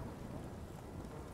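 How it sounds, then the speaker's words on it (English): A thunderstorm in The Witcher 3 game world, a low continuous rumble of thunder mixed with steady rain hiss, fairly faint and unbroken over a brief moment. "Why is it constantly storming everywhere I go?"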